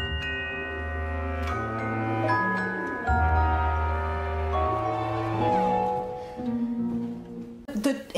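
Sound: orchestral strings playing glissando

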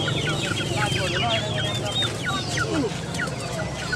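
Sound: chickens clucking at an animal market

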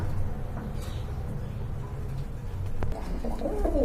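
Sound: male pigeon cooing

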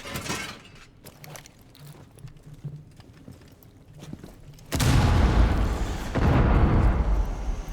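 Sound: explosion in a video game

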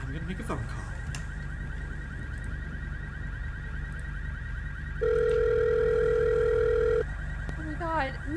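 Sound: telephone dial tone while making a call in a video game

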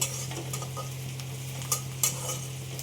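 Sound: onions frying in a pan

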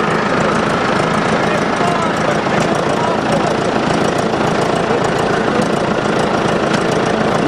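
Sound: Case backhoe engine running

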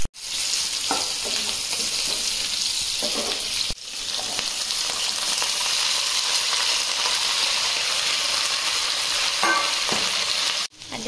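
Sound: garlic and green chilli frying in oil

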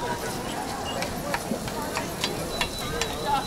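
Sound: frying zucchini with mushrooms and garlic at Christmas market

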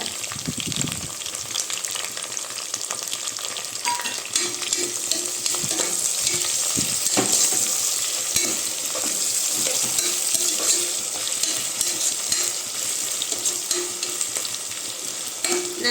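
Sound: onion sauteing with ginger garlic paste for biryani

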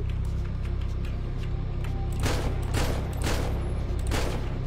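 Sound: gunfire in video game GTA roleplay

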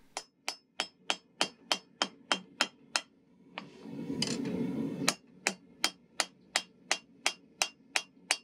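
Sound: light hammer taps forging steel knife on anvil

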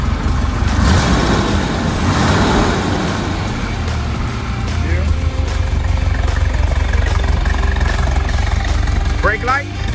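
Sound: 1972 Chevrolet Corvette LT-1 engine revving

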